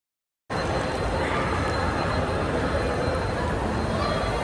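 Railway station ambience at Baiyappanahalli, a loud, dense rumble of train and platform noise that starts abruptly and holds steady to the end.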